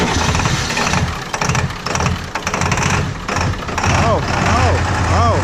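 Ford 7.3 diesel truck engine cranking and trying to start on six batteries, a loud near grinding churn in uneven bursts with a brief catch, with people speaking nearby.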